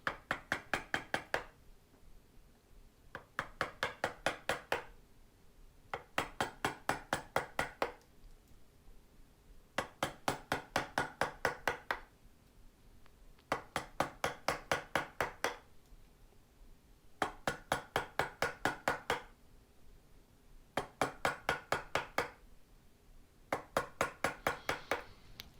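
Rhythmic bursts of sharp tapping as a hand tool such as a mallet and chisel carves the lower horn of an African mahogany PRS-style guitar body, each run of quick strikes followed by a brief pause, close and clear with no talk.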